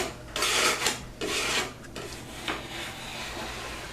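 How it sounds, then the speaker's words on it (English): A knife scrapes around the edges of a drywall patch to clean off small burrs, giving a few close, dry rasping strokes in short bursts, the last ones softer, with no talk. "I'm just going to go around the edges and clean off the little burrs."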